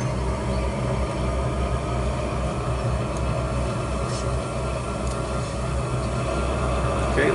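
Train in the Trainz 2019 simulator starting to roll from a standstill, a steady low rumble of engine and wagons that holds at an even level, with faint squeals and clanks above it and no talk.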